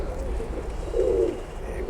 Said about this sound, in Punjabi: ਇਹ ਹੀਰਾ ਲਾਲ ਕਬੂਤਰ ਜਿਹੜਾ ਤੁਸੀਂ ਕਹਿ ਰਹੇ ਸੀ